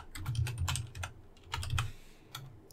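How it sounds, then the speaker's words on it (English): Close, quick keystrokes on a computer keyboard in short bursts with brief pauses, with soft low thumps beneath the clicks. "I'll just type my first avatar."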